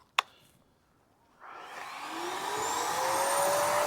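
Shop vac hooked up to a car's exhaust pipe: after a single sharp click, the vacuum motor starts and spins up, its whine rising in pitch into a loud, steady roar that carries on to the end.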